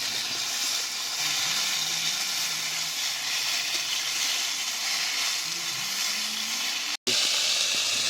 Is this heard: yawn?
no